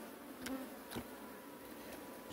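Honey bees buzz around a hive, a steady low drone with a few louder passes as individual bees fly close by, no talk.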